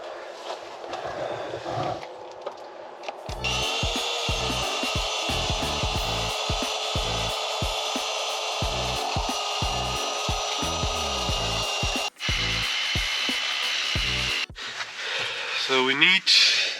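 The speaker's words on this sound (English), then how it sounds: "Then we got this sander." A power sander shapes wood for a boat tiller, a close, steady grinding whir with rhythmic rubbing pulses as the piece is worked. Brief bursts of speech and handling noise come before and after it.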